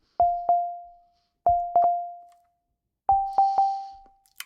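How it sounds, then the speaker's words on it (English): Drambo synth operators run through a delay, giving bright, music-box-like chiming tones: three groups of plucked notes, each with two or three quick strikes ringing out and decaying, separated by short silences, with no voices. "I think that almost sounds like a little music box sort of thing."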